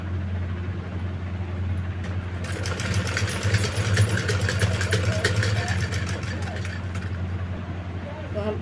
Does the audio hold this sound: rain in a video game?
no